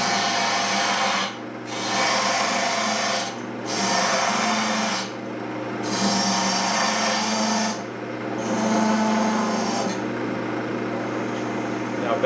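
A turning tool cuts and scrapes steadily along the outside of a wooden goblet spinning on a lathe, a continuous rasping drone broken by brief pauses every couple of seconds as the tool is repositioned, close and loud.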